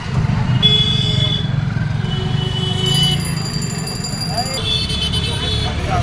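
Busy street traffic in Varanasi, heard from a rickshaw ride: a constant engine and road rumble with repeated sustained and short vehicle horn blasts, some overlapping. Voices talk over the noise.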